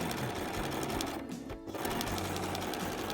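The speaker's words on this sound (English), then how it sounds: "Then I'm going to take it and stitch it at the shoulder." A sewing machine runs steadily through spring coat fabric, a close, continuous whirring rattle of the needle that pauses briefly in the middle before resuming.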